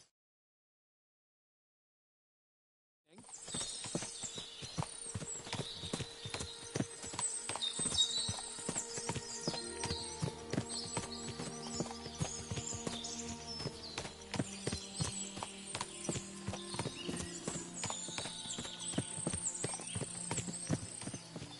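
Horses clip-clop steadily in the video game Kingdom Come 2, a continuous stream of many hoof beats starting after about three seconds of silence, moderately loud, with an occasional faint whinny.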